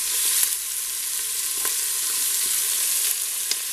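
Half an onion and some garlic fry in a pan, a steady close hissing sizzle with occasional sharp crackles and a few stirring clicks.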